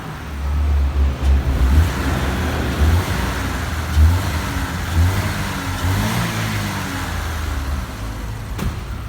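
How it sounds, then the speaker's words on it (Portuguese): The 1.0 8V VHCE engine of a Chevrolet Corsa Classic revs up under repeated throttle blips, its low rumble swelling and easing in uneven surges, heard close with steady broadband noise around it and no talking. "Vou acelerar, o Rafa vai mostrar."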